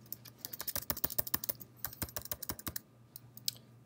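Rapid typing on a computer keyboard, a steady run of close, crisp key clicks with a few quick bursts, heard alone with a faint hum underneath.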